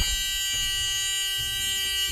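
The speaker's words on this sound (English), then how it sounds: "With the key on now, we should have an alarm." The emergency exit door alarm on a 2024 school bus sounds as a steady electronic buzzing tone, fairly faint, with short pulsing breaks in its pattern.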